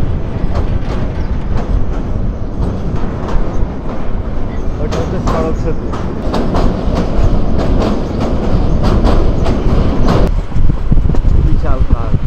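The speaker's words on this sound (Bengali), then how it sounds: "এখন ট্রেন ছাড়লো এই ভৈরব জংশন থেকে" A moving passenger train leaving Bhairab Junction and crossing near the Meghna River, loud continuous rumble and rhythmic clickety-clack of wheels on rail from inside the carriage, with someone talking over it.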